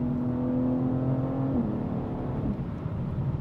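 A BMW X3M with a 503-horsepower tuned engine pulls hard under acceleration, its steady loud drone rising and then briefly dipping as it shifts gears, heard from inside the cabin.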